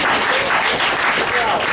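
Audience at a café open mic comedy night applauds comedian Stas, a brief steady burst of many hands clapping filling the room without a break.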